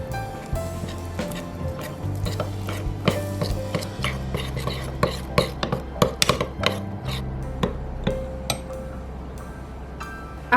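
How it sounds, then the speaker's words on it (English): Green tea face pack paste being mixed with lemon juice in a small bowl, with repeated clinks and scrapes of the utensil against the dish over soft background music. "Mix all the ingredients together to form a thick,"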